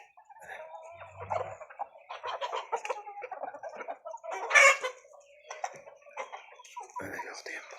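Adler breed chickens and large roosters cluck and call around a farmyard, the calls mixed with steady talk from a nearby voice and one louder burst partway through.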